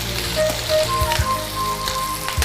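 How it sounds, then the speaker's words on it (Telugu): Raw onions and garlic cloves fry in a pan for a peanut chutney, making a close, continuous sizzle with scattered crackles and pops. Faint tonal hums run underneath. "పచ్చిఉల్లిపాయలు అన్ని వేయించేసి"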